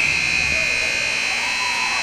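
A period-end buzzer sounds in an ice arena during a National Ringette League game between Gatineau Fusion and Waterloo Wildfire. One loud, steady, sustained electronic tone runs the whole time, with voices and arena noise underneath.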